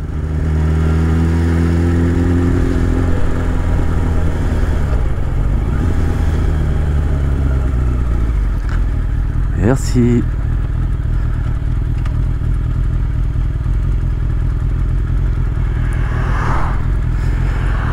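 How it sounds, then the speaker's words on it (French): Motorcycle riding on a French road trip route toward the sea, slowing into a traffic jam; a steady engine drone continues throughout with a brief louder rev midway, and a rider briefly thanks someone. "on a de la chance d'être en moto là pour le coup"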